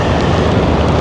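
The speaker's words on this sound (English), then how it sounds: "the wind's just picked up and it started to rain again" Wind and rain beside the River Usk in Wales in spring make a loud, dense broadband rush, buffeting close to the microphone throughout, with no voices present.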